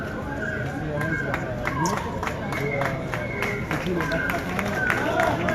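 Street protesters on strike applaud amid a noisy outdoor crowd, steady overlapping clapping under loud hubbub and shouting voices, close and continuous.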